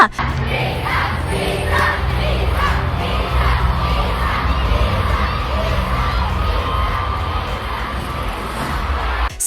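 A large concert crowd in Barcelona at a show chants a name in loud rhythmic repeated shouts, a dense roar of voices filling the space continuously.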